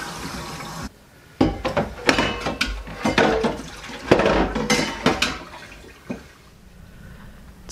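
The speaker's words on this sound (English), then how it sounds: "Just have a few dishes to do before I get on the road again. Take advantage of the running water while I can." Dishes clatter and clink under running water at a wilderness camp, with bursts of splashing and knocking pots scattered unevenly through the clip after a brief quiet start.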